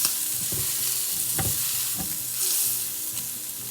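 Prawns pan-frying over fairly high heat in butter and garlic, a steady close sizzle with a few soft scraping stirs and clinks of the pan throughout.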